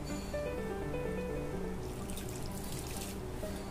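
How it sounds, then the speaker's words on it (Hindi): Water poured little by little into wheat flour while kneading a tight dough for crispy puris, a continuous trickling splash with light dripping that turns brighter and splashier toward the end. "इसमें थोड़ा थोड़ा करके पानी डालेंगे"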